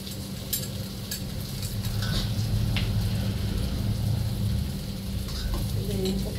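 Smoked pork chop pieces and garlic frying in a pan give off a steady, dense sizzle with occasional stirring scrapes and clinks, close by and fairly loud throughout.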